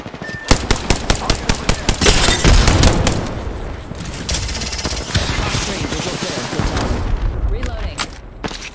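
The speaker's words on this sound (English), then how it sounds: "Opening fire on the enemy." Gunfire in the video game Apex Legends, loud and close, with sharp single shots that give way to dense rapid automatic bursts and a few booms, and brief voice lines mixed in.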